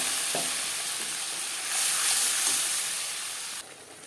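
Panch phoron whole spices crackle and sizzle in hot leftover fish-frying oil for a silver carp curry, a steady close hiss that swells briefly in the middle before easing off.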